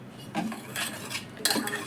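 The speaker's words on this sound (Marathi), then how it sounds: "पूर्ण हलवून घ्यायचं त्याला, म्हणजे एकही गुठळी त्याच्यामध्ये राहिली नाही पाहिजे." A spoon stirring dhokla batter in a bowl, giving a short run of close scraping and clinking strokes against the bowl's side.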